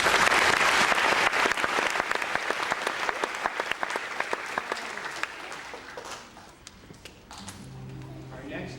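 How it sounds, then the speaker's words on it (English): Audience applause for a folk performer who sings West African songs and plays guitar, a dense steady clapping that gradually thins and fades, with a few voices emerging near the end. "So a round of applause for Ms. Montgomery."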